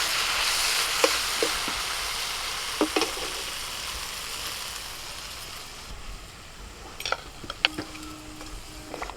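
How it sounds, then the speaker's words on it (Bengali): Spice paste of chilli powder, turmeric, salt and water sautéing in a pan for broken-rice khichuri, a steady close sizzle and hiss with occasional stirring clinks and scrapes, fading somewhat toward the end. "মশলাটা কষা হয়ে গেছে।"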